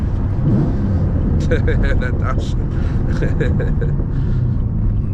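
A cammed Chevrolet Camaro Z/28, a limited-production fifth-generation car, rumbles with a deep, steady engine drone while driving, with a voice talking over it.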